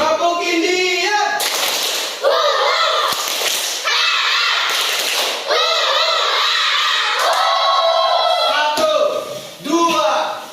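A classroom of students chanting together in rhythmic voices for a group clapping chant, with sharp bursts of unison hand claps punctuating the sing-song calls, loud and close.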